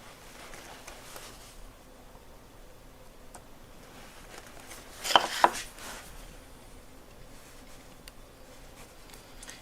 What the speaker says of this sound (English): I'll go in here with the chisel and just deepen that